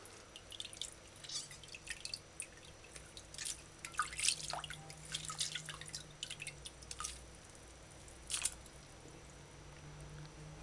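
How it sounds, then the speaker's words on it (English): Tap water runs while salted codfish is rinsed and squeezed under it in a kitchen, with scattered drips, splashes and wet squishes over a low, steady water hiss. "do this part on the running water while rinsing the fish, kind of squeeze it firmly"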